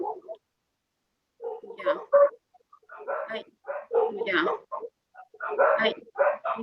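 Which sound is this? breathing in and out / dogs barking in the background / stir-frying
dogs barking in the background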